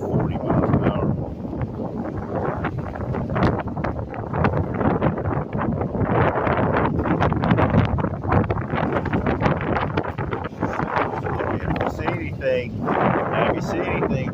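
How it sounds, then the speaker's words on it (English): Strong beach wind of around 40 miles an hour buffets the microphone with a steady, loud, roaring rumble that lasts throughout, with a person talking underneath. "this wind's blowing like 40 miles an hour"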